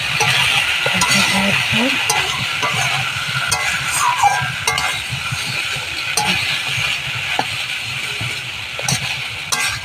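Shrimp and young jackfruit fry in a pan while being stirred, giving a close, steady sizzle broken by repeated scraping strokes of the spoon, with a brief voice in the background.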